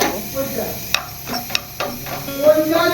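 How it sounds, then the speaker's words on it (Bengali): Panch phoron, the Bengali five-spice, dry-roasting in a pan with a light crackle and scraping stir, marked by a few sharp clicks as the seeds pop, heard close under steady background noise. "অল্প একটু পাঁচফোড়নকে ভেজে গুঁড়ো করে নিচ্ছি"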